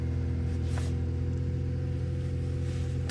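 A Mini R50 with an ABS fault idles just after starting, a low, steady engine rumble close by with a faint higher whir briefly rising, and no talking.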